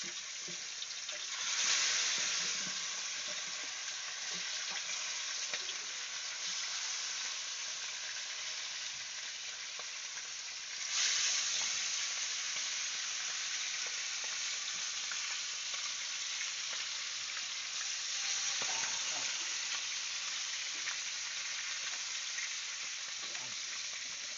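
Mud crab frying in hot oil, a dense steady crackling sizzle lasting throughout with a few louder surges, close and fairly loud, no talking.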